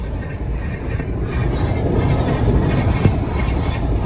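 Steady low rumble of a train rolling past near Annavaram, Andhra Pradesh, continuous and fairly loud throughout with no voices.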